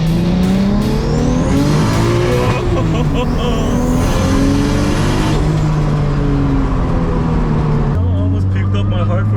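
A 1972 Datsun 240Z pulls hard through the gears, its engine note climbing and dropping with each shift, loud and near throughout, with a faint tire squeal and people talking over it.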